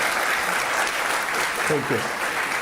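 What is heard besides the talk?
lecture audience applauding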